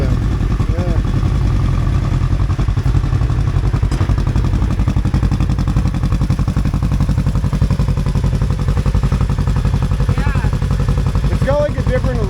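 Kawasaki KRX 1000 side-by-side engine idling with a GGB trail muffler, a loud, steady, close low rumble with a pulsing beat, while people talk over it.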